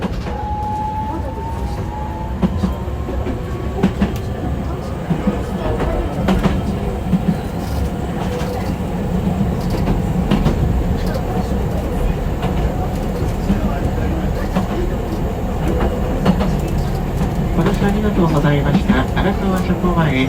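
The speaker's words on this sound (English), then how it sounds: "That was the Toden Arakawa line in Tokyo" Toden Arakawa line tram in Tokyo running with a loud, steady rumble and rattling wheel clatter, a faint rising whine near the start and scattered clicks along the track. Voices can be heard under the noise.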